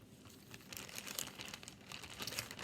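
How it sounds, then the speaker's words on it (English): A paper bag crinkles steadily as a seed is dropped inside, close, dry rustling bursts over a couple of seconds with no talking. "Then I'm going to put my seed in the paper bag."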